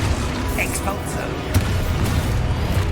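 An Expulso blast spell in Hogwarts Legacy goes off as a loud, rumbling explosion with a sharp burst partway through, over continuous low rumble and game noise.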